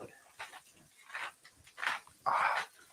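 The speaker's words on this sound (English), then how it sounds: "Had to let the dog in." A dog at a house gives a few soft, short woofs and whimpering sounds, spaced apart and growing slightly louder toward the end, fairly close and alone without talk.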